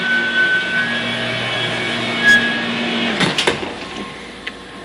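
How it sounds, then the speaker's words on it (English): A parts washer cleaning a small-block Chevy 350 engine block hums steadily in the background, a continuous mechanical drone with faint whining tones, interrupted near the end by a few brief clanks and rattles. "that horrible sound you're hearing in the background is actually my parts washer"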